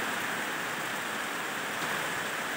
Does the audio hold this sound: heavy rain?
yes